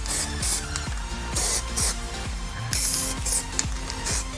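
Rust protection coating sprayed onto an AC unit's coil, motors and copper in repeated short hissing bursts, each followed by a mechanical click of the sprayer, close and fairly loud.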